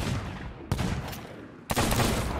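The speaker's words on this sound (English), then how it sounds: "Just shot Bada Bing, he's dead" Gunfire in a multiplayer video game during a charity stream: a steady dense burst of rapid shots, with two sharp onsets as new volleys begin, fairly loud and without talk.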